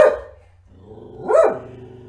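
A dog barks close by, two sharp barks with a rough, growly edge separated by a short gap, alone without talk.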